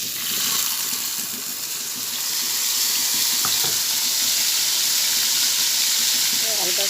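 Spices frying in hot mustard oil, a steady bright sizzle with soft stirring scrapes, close and fairly loud, continuing evenly throughout.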